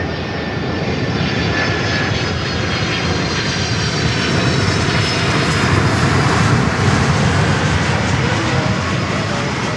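Aircraft engine roar at Miami Airport, a loud, steady broadband rumble and whine sustained throughout as a plane moves nearby, with no break in the noise.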